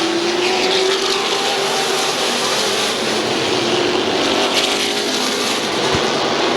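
Race cars roar around the oval at Midvale Speedway during the final lap of a race, a loud, continuous engine drone with a steady pitch that rises and falls slightly as the pack moves through the turn.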